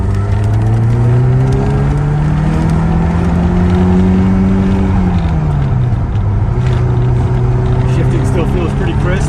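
A 1987 Lotus Esprit Turbo heard from inside the cabin on a road test, its engine droning loudly and steadily as revs climb and then drop back, with a faint turbo whine over the engine and road noise.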